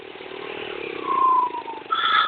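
A motorcycle engine revs up briefly, its pitch climbing in two short surges, fairly close and unaccompanied by talk.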